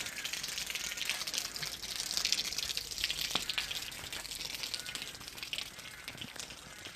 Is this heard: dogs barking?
no